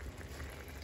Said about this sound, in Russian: Я опускаю картошку